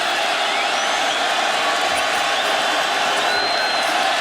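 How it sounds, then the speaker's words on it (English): A college football stadium crowd at Miami during Toledo at Miami in 2017 grows loud, a constant wash of cheering and roaring voices with faint whistles cutting through, steady and enveloping. "Miami sideline is imploring this crowd to get loud."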